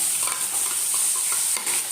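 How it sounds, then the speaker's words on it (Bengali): Fish sizzling hard in hot oil in a home kitchen, with oil spattering heavily, a loud continuous hiss and crackle close up, with no voices over it. "তেলে মাছগুলো দিয়ে দিলাম। প্রচুর মানে তেল ছিটছে বেশি।"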